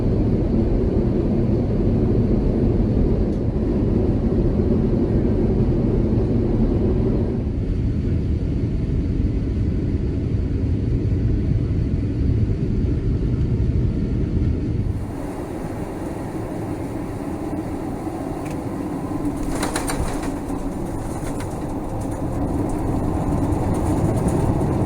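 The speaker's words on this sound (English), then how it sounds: "We had a very smooth landing in Doha." A Qatar Airways Airbus A350-1000 descending and landing, heard from inside the cabin as a loud, steady engine and airflow roar that shifts in tone partway through as the aircraft touches down and rolls out.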